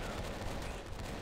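Gunfire in the online shooter game Rush Team: a dense, continuous stretch of rapid shots that stays loud and even throughout, with no talking.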